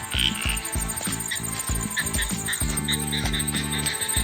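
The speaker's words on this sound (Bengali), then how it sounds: "ব্যাং ডাকছে ঝিঝি পোকা" Frogs croak in the evening by a swimming pool deep in Joypur forest, loud repeated low pulses in a quick rhythm, with a high insect drone running beneath them.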